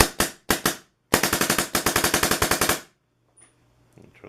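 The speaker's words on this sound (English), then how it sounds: "It's already on dry fire." A paintball marker dry fires on shop compressed air, with two quick shots, a short burst, then a long rapid string of loud sharp pops that stops abruptly into quiet.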